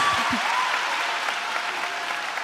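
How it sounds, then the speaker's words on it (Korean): Audience applause at a church Bible recitation contest, a steady dense wash of clapping sustained throughout, with a brief voice at the very start. "박수 부탁드립니다."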